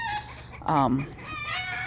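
Chickens in a backyard garden give a short burst of clucking and squawking, fairly close, while someone talks over and around it.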